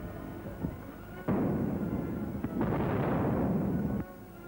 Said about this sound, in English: the giant warship prepares to test her ability to withstand the strain of her own guns. Her secondary armament open up.